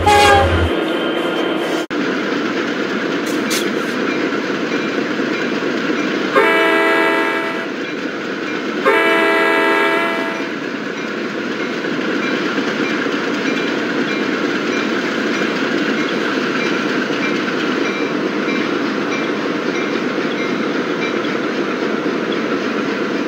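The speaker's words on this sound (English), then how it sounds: "You should go ahead and give them a horn show." A train in a rail yard rumbles past loudly and continuously at close range, broken by two short, bright horn blasts partway through.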